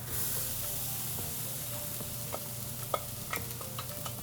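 Walnuts, cranberries, mushrooms and wild rice sizzle softly in a hot pan under a steady hiss, with a few light spoon scrapes and taps as the mix is stirred, close by.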